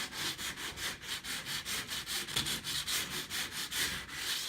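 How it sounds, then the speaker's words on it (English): A medium grit sponge sander rubs back and forth over a wooden bathroom shelf, giving a steady, rhythmic scraping of close, even strokes, roughly three per second, with no talking. "I'm using this little medium grit sponge sander"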